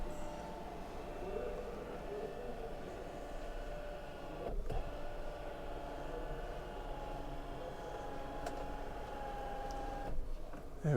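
An electric motor drives a bed lift back up, a steady low mechanical hum running throughout at moderate level, with a brief knock near the middle and a faint click near the end.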